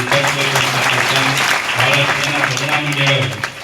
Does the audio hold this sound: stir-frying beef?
no